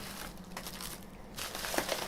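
Paperwork from a ModMic 4.0 unboxing rustling and crinkling softly in close-up, with brief quiet handling crackles.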